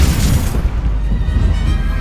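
A Bombarda spell blast in Hogwarts Legacy during a Defense Against the Dark Arts duel: one heavy, booming burst at the start that rolls into a deep, sustained low rumble, loud and close, with no talk over it.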